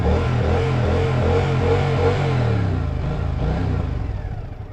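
A Triumph America LT motorcycle's parallel twin engine thuds at low revs, a steady, deep, close-up rumble that fades slightly near the end.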